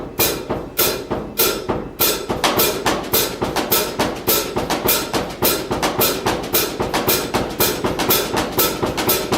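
Drum strokes on a practice pad in steady, even sixteenth-note groups of four, each cluster of crisp, sharp hits repeating evenly and loudly with no talking.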